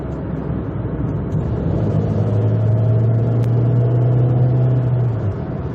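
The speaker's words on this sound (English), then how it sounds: "So this automatic gearbox only has 3 gears, does most of the acceleration in second gear." A car with a three-speed automatic gearbox accelerates on the road, its engine giving a steady low drone that swells into a rising tone in the middle before easing off, with constant road rumble underneath.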